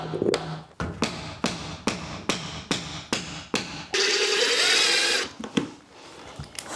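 Wedges being tapped in to lock them, heard as a steady series of sharp metallic taps, about ten evenly spaced, followed by a brief sustained whirring burst and a few more scattered knocks.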